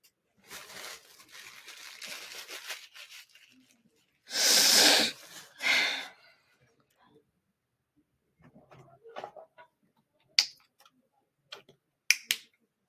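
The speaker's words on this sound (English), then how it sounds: "I need to blow my nose." A loud, breathy nose blow in two bursts, close to the microphone, with faint rustling and a few small clicks and sniffs around it.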